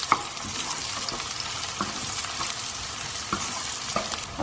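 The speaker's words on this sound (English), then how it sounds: "My ginger and garlic go in next, and I've used freshly crushed ginger and garlic. Mix that through for a couple of minutes." Freshly crushed ginger and garlic stirred into caramelised onions give a steady close sizzle, broken by regular light scraping knocks of a spoon against the pan, with no one talking.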